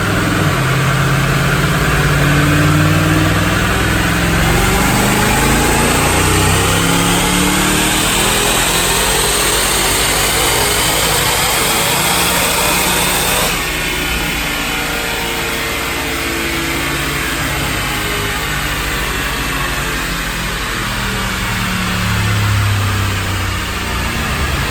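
A supercharged 2014 Ford Mustang with a Roush intercooled kit and an automatic transmission howls through a dyno pull, its loud engine note sweeping up in pitch, dropping back, then climbing again.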